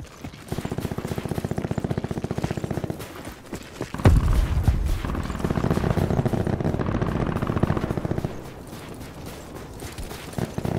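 Rapid automatic fire from an M8A1 rifle in the video game Black Ops 2, with dense bursts of shots early on, then a heavier blast and continued firing with game effects, loud and close throughout.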